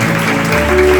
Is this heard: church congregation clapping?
yes